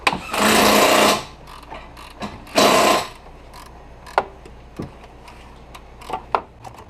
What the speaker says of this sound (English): press the bearing all the way in